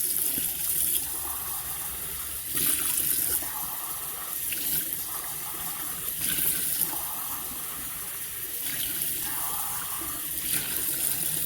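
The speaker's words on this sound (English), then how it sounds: "Give it a quick rinse," Running tap water rinses a travel tea tumbler, a steady hiss of flowing water throughout with a few louder splashing surges as the tumbler is moved under the stream.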